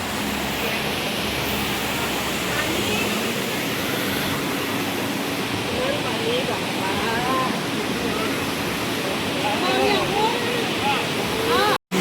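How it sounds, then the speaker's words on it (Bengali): Banjhakri waterfall makes a constant, full roar of falling water, broad and steady, with people talking and birds calling faintly beneath it. "এটাই হচ্ছে বাঞ্জাকড়ি ওয়াটারফলস। ওইখান থেকে জলটা পড়ছে।"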